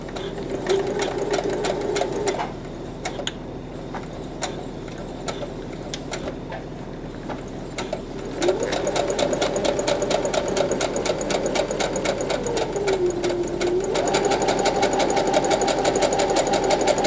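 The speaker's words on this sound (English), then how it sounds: "we're just gonna sew it all the way through" Sewing machine stitching the seam of an infinity scarf, a fast steady mechanical clatter running continuously with a pause and speed change midway, close and alone.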